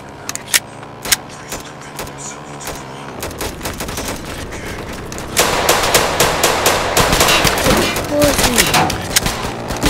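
Gunfire in a Chicago street video game, with sharp isolated shots at first, then rapid bursts growing into a thick, sustained volley while players talk over it.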